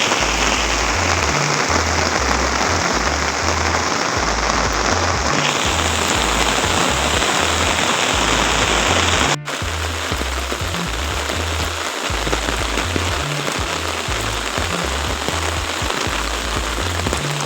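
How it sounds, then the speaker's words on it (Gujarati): Heavy rain pours down continuously outdoors, a dense, loud, steady roar of drops drumming on surfaces that holds throughout without pause. "વરસાદ ફૂલ ચાલુ થઈ ગયો, ફૂલ વરસાદ ચાલુ છે જો"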